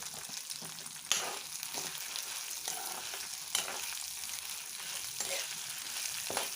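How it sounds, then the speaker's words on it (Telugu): Urad dal and dried red chillies frying in a pan for coriander chutney, a soft continuous sizzle broken by several sharp spoon-stirring scrapes and clacks, close and unaccompanied by speech. "రెండు కలిపి మనం బాగా కలిపితే ఎండుమిర్చి కూడా బాగా ఫ్రై అవుతుందండి"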